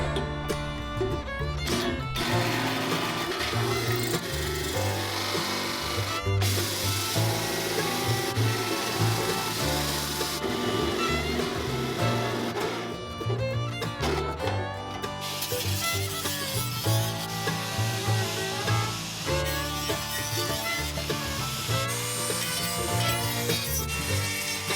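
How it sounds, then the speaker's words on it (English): A steady grinding, rasping whir of a 2-inch hole saw cutting into wood, running continuously with brief pauses and changes in pitch. "So now I'm going to drill that out with a hole saw to this diameter"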